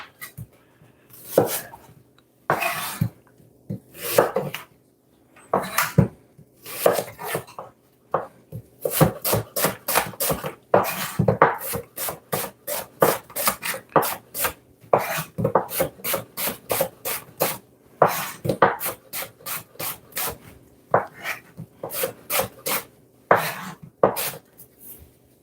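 One Scotch bonnet pepper being grated or rasped on a hand tool, repeated sharp scraping strokes in uneven bursts, some fast and clustered, close and loud with no talk.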